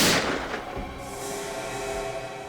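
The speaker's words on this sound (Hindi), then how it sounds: "गोली चलने की आवाज आई।" A single loud, sharp gunshot bang at the start, followed by a decaying echo and low rumbling ambience.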